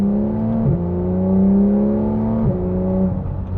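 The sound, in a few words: Porsche 991 sports car engine revving, exhaust flaps open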